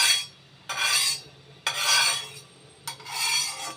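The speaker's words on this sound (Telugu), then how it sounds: "నూనె బాగా ఇదంతా స్ప్రెడ్ అయ్యేట్లా ఇలా కలిపేసుకోవాలి" Oil being spread around a pan with a spoon or ladle while making dibba rotti, heard as three loud, close scraping sweeps, each lasting about a second with short pauses between them.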